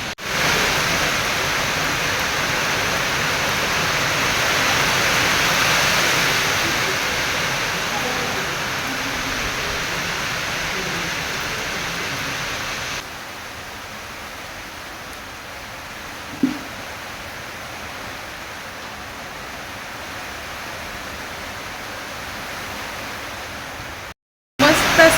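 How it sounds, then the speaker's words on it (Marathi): Sudden heavy rain pours outside a house as a dense, steady broadband roar, louder in the first half and then slightly softer, with a faint voice briefly underneath. "अचानकच पाऊस आला"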